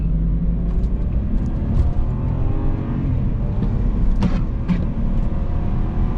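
Engine of a 2008 BMW 328xi E90 sport-package sedan pulling hard on a drive during an ice storm, a steady, loud low rumble with a faint rising tone heard from inside the car, with no talking.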